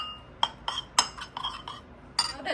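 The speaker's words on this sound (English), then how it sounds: "I'm gonna go ahead and add some water to this, and I'm gonna give this a good mix" A metal utensil stirs cornstarch into water in a pan for Guyanese lemon chicken, giving a few sharp, close clinks against the pan spaced irregularly over soft scraping, with no talking.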